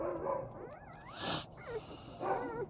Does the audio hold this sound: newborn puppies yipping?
yes